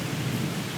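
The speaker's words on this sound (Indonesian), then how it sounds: "Kalian bisa dengar suara hujan di luar?" Heavy rain pours down outside an abandoned university building. The roar is dense and unbroken, loud and close, with no voices over it.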